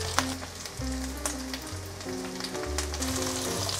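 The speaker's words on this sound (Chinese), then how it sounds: "继续让它慢慢煎" Cabbage cakes pan-fry slowly in oil over medium-low heat, giving a steady, close crackling sizzle that runs throughout beneath a soft, tonal background melody.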